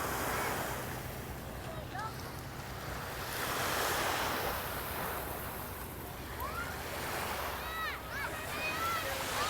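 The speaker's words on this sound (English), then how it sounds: "what a beautiful little hidden beach right here" Waves break and wash onto the sand of a small hidden beach at Alona Beach, a steady rolling surf with gusts of wind buffeting the microphone and faint high birdlike calls in the distance.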